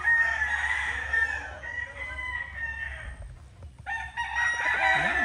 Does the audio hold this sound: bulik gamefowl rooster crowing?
yes